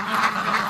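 Free-range breeding ducks quack loudly and continuously at close range, an eager chorus as they wait to be let out.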